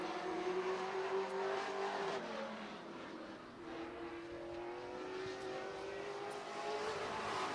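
A race car with a 602 crate engine runs a timed lap at Slinger Speedway, its engine droning and rising in pitch as it circles, swelling and fading with distance across the track, with no voices over it.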